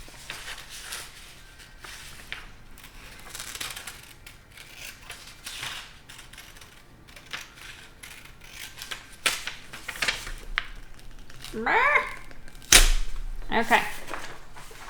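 Scissors cut out a paper sheet in a series of crisp, uneven snips and paper rustles, close and moderately loud, with a person talking quietly at times.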